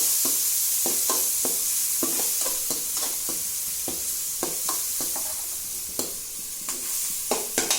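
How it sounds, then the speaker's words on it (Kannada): Onion browned in a pan with tomato, red chili powder and turmeric, stirred steadily: repeated scraping strokes of a spoon over a continuous close sizzle, no voices. "ಈಗ ಟಮಾಟಿ ಹಾಕೊಳ್ಳೋದ್ರಿ, ಕೆಂಪು ಖಾರದ ಪುಡಿ, ಅರಿಶಿನ 3 ಸೇರಿ ಮಿಕ್ಸ್ ಮಾಡ್ಬೇಕ್ರಿ"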